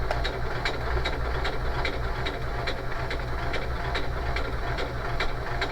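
A Pfaff Smarter 140s/160s sewing machine stitches backward and forward, making a fast, regular mechanical ticking over a steady motor hum, close and even.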